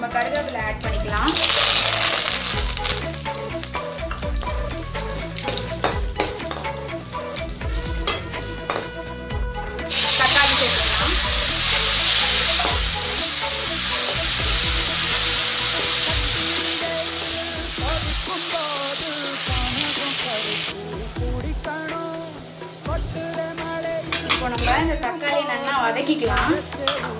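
Dried red chillies and curry leaves sizzle loudly in a hot pan of oil for tomato thokku, a continuous close crackling hiss that swells when stirred, with a person talking over it.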